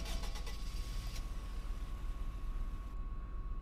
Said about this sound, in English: the engine sounds for this thing, as you just heard, is not really anything special